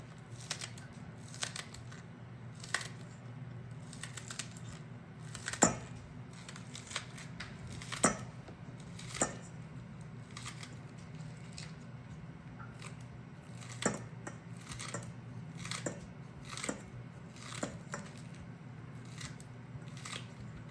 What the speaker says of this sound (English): just using my scissors and cutting it really finely and adding it to the batter